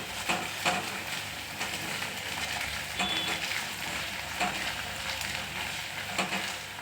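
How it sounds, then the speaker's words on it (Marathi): Garlic paste frying with golden onions in a pan, a quiet, steady sizzle with occasional scrapes and stirring knocks, fairly soft and close with no talk. "थोडं याला पण कांद्यासोबत फ्राय करून घेऊया."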